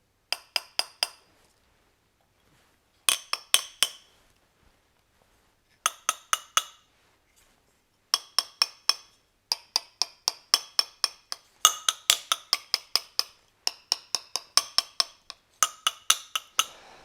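Bursts of quick, bright taps on carbon fibre tonearms, three to six at a time, separated by short pauses, crisp and close with no talking.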